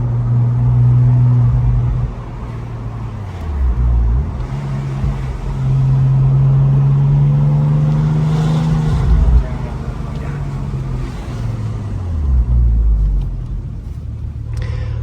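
Onboard, a Porsche 911 Turbo with its Metzger engine growls at close range, its deep rumble swelling and falling through several rising revs and gear changes over the whole stretch.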